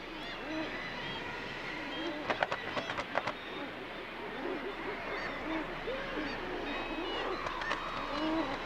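Guillemots gather on narrow cliff ledges at a seabird colony, and their dense, overlapping growling calls form a continuous chorus with a few sharper cries standing out.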